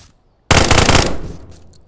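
A sudden loud burst of rapid automatic gunfire in the VR shooter Contractors VR, a dense rattling volley lasting under a second before tailing off into echo, heard alone.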